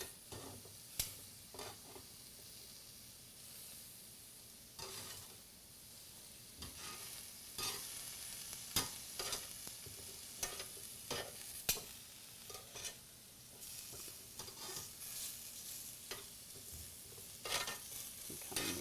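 Beef tenderloin and grilled vegetables such as asparagus sizzling while cooking, a faint continuous frying hiss broken by repeated scraping and stirring clatters from turning the food, with no talk.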